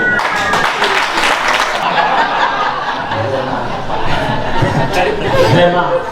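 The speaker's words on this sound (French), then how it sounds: "les tentatives d'applaudissement ne m'énervent pas, ça m'agace" Scattered, uneven clapping from a comedy-show audience, mixed with chuckles and murmured chatter, the hands coming in loose bursts rather than a full ovation while voices talk over it.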